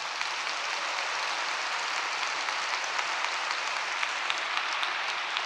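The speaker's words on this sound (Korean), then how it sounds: "우리 모두 감사의 박수를 올리지 않습니다." A large congregation at a religious rally applauds, a dense, even roar of clapping that stays loud and sustained from start to finish.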